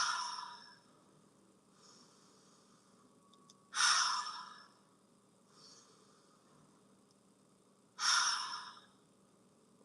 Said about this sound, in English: Take in 3 deep breaths.